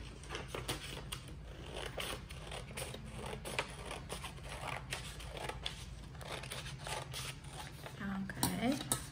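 Scissors snip through paper while a rectangle is cut out for a snail craft, giving a steady run of close, crisp cuts with quiet talk beneath.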